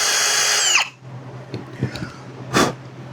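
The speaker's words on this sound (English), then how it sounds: "we are going to try to drill this guy out" A power drill whines briefly at high pitch drilling into a damaged Panasonic GH5 camera, then stops, followed by a few soft knocks and a loud burst of rushing air blowing metal shavings; no talking.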